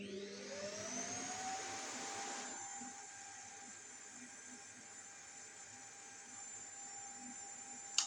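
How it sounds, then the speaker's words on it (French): A household vacuum cleaner whines loudly as it empties its bag, a rising motor tone settling into a steady drone, alone and close. "Là c'est l'aspirateur qui vide son sac."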